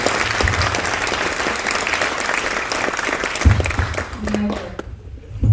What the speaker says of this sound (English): a round of applause for all the good work you're doing